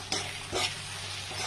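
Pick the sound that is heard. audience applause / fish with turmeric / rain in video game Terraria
fish with turmeric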